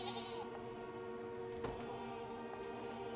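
Goats bleating in the fantasy video game Unicorn Overlord, a few short, quiet cries over a steady game music bed.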